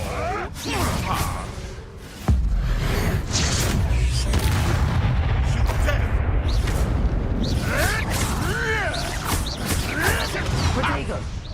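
Spell combat in the Hogwarts Legacy video game: booming blasts, whooshing casts and crackling magical impacts in quick succession, loud and busy, with a voice briefly exclaiming among them.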